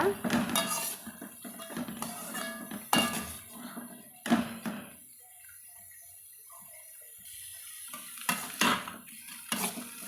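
Vegetables and carrots for vegetable noodles being stirred in a pan, with repeated scraping and clinking of a utensil against metal over a soft sizzle, bursts of stirring separated by quieter stretches.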